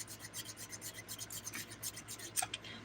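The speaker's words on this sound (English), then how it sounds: "Right now I'm using the 100 grit side just to initiate filing on these thick nails here" Rapid, rhythmic rasping strokes of the coarse 100-grit side of a 100/180 nail file against thick nails coated in chunky glitter dip powder, close up and fairly quiet with no talking.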